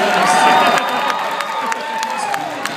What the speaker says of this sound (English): see how we're getting kind of a half applause?